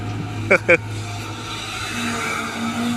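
A CAT 320GC excavator bucket digs into hard clay soil while a pond is being dug in Thailand, letting out two short, sharp scraping squeals over a steady low engine drone.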